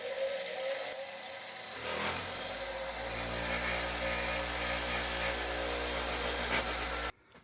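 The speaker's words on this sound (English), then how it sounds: "Grind that little point off with my grinder." A power grinder spins up and grinds steadily to remove the overhanging tang from a guitar fret wire, a loud, close, sustained whine with a harsh grinding edge that cuts off abruptly near the end.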